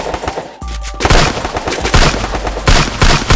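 Loud, rapid automatic gunfire in the video game Free Fire, dense bursts of shots in quick succession with a brief lull near the start.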